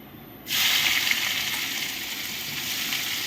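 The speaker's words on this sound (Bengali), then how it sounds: "তারপরে কুচনো পেঁয়াজ দিচ্ছি।" Loud, steady sizzling of chopped onions frying in hot oil begins abruptly and continues without pause.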